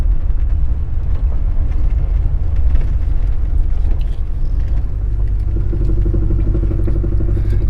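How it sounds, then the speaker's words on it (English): A 1969 Lincoln Mark III idles with a steady low engine rumble, a faint loose muffler rattle clattering underneath, close and fairly loud throughout. "You can hear that muffler rattling a little bit in the background noise."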